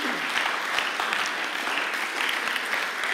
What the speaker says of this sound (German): Herzlichen Applaus für die 2.